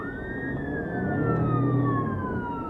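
A police car siren wails steadily and loudly during a traffic stop, its pitch slowly sliding, with the rumble of the vehicle underneath.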